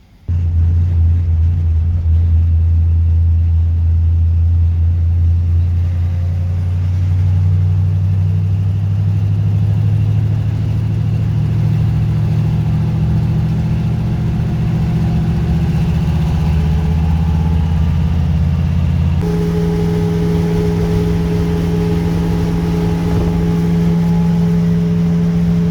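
A car engine drones steadily while driving on the road during the Power Tour 2024 road trip, a loud, constant low hum with a slight shift in pitch late on as the gear or speed changes.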